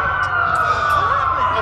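Wailing police sirens in the video game Watch Dogs hold a steady, loud tone throughout, with a second siren sweeping beneath it, set against a low engine rumble.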